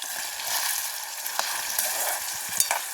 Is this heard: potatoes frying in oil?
yes